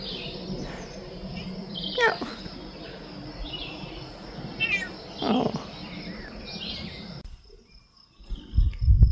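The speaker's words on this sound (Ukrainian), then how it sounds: "Кожен раз кличу і мяу." A cat meows outdoors several times, a few drawn-out calls spread over the clip, with insects chirping in the background and a voice calling near the end.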